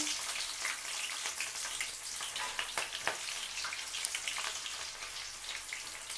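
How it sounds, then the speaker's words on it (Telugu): Green chilies and onion pieces frying in hot oil give a quiet, even sizzle with light crackles and occasional small pops, like soft rain. "ఈ ఆయిల్ కొంచెం హీట్ ఎక్కిన తర్వాత పచ్చిమిర్చి, ఉల్లిపాయ ముక్కలు"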